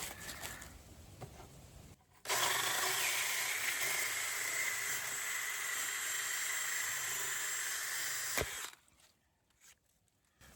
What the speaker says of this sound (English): I've just drilled a plug, push that in